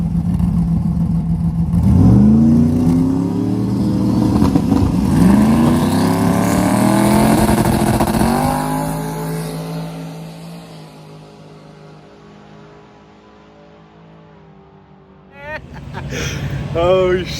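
A twin turbo Coyote-engined Mustang launches hard on a drag run, its engine note rising through several sharp revving gear pulls, then fading into the distance before more engine noise returns near the end.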